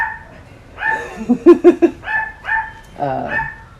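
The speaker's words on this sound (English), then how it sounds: "It's a dog passing by." A dog passing by barks in a short burst of a few sharp, quick barks between longer whiny yelps and whimpers, fairly loud and close, heard alone without talk.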